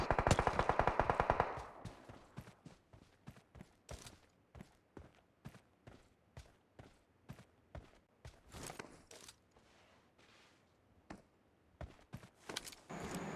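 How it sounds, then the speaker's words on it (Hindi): PUBG gunfire from an enemy player on the Erangel map, starting with a dense rapid burst, then a long run of spaced single shots and short bursts at varying loudness. "वही यूएस वाला अभी मेरे पे शॉट लेगा, लेकिन इतने शॉट लेगा मेरे पे भी एक भी कनेक्ट नहीं होगा"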